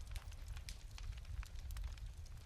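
A village bonfire burns through a Hogmanay night with a steady, dense crackle of sharp pops and snaps over a low, constant roar. No voices are heard.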